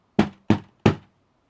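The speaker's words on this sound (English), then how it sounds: "Then there was a knock at the door, a loud," Three loud, evenly spaced knocks on a door, sharp and close, with nothing else heard between them.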